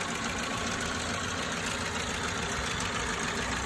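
A Mercedes W124 (Mercedes 124) engine idles close by, a steady, even rumble that holds throughout with no talk over it.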